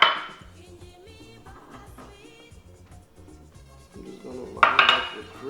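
Baking tins being greased and lined up on a counter for pasta-shell moi-moi, with soft metallic knocks and clinks that build to a louder clatter near the end, close by and with no speech.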